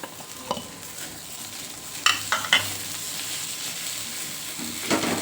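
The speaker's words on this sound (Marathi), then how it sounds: "छान हलवून घेऊया" A spoon stirs crushed peanut powder and potato in a hot pan over medium heat, a soft sizzle underneath with a few sharp scrapes and clicks against the pan, close and without talk.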